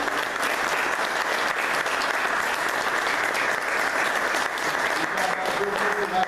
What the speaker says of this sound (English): just everybody in attendance, a quick round of applause for the panel and support.